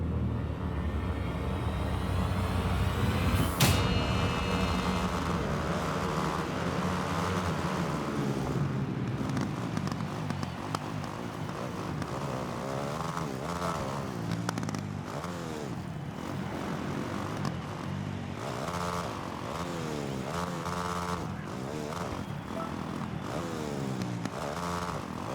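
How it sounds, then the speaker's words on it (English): Dirt bike engines in a Milestone motocross video game, a dense, continuous buzzing whine that rises and falls as the bikes rev through the race, loud and steady with no voices. "So yeah, that's the bike sounds."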